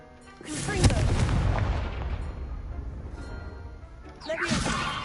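The Confringo blasting spell is cast in the video game Hogwarts Legacy with a sharp close boom that rolls into a sustained rumbling blast, then a second whooshing burst near the end.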